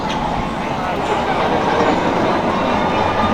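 An old Arrow mine train roller coaster at PortAventura rumbles steadily along its track, a loud continuous roar of wheels and cars without breaks.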